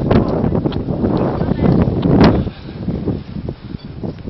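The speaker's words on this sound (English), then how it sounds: "It's getting a bit windy now." Wind buffets and rumbles against the microphone in gusts during a hill walk, swelling midway then easing, with a voice talking over it.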